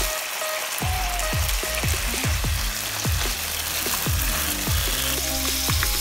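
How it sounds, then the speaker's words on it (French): Black bean paste, fermented tofu paste and rice wine fry together in a pan for braised pork belly, giving a steady loud sizzle broken by repeated stirring knocks and scrapes throughout. "la pâte d'haricots noirs, la pâte de tofu fermentée et on y verse l'alcool de riz. Et on va faire revenir le tout."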